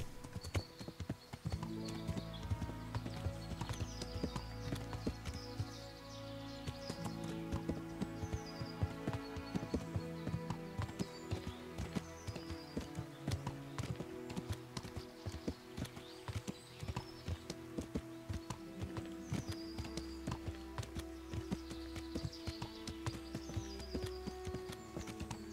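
Horse hooves clip-clopping at a steady walking rhythm while riding in Kingdom Come: Deliverance, a video game, set against a continuous musical score and an occasional whinny.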